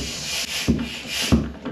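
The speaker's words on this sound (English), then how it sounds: "Means the bead, the tire on the inside of the rim is going and seating itself." Tubeless bike tire bead seating on its rim while being pumped to about 65 PSI, heard as two sharp snapping pops over a steady hissing rub, close by.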